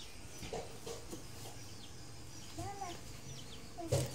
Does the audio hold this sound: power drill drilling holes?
no